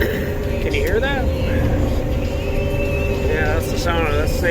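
A combine harvester slowly grinds through tough green beans at about two miles an hour. A steady, loud mechanical roar and rumble carries thin whining tones that rise and fall over it.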